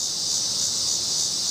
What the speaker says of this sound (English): can you hear those damn cicadas?